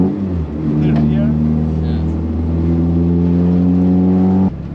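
A Honda EK4 fitted with a K20 engine revs hard on the Nürburgring, loud climbing engine tones holding high before cutting off abruptly near the end, with a voice heard briefly over it.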